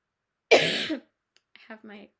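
A single harsh cough bursts out loud and close, followed after a pause by a shorter, quieter throat sound.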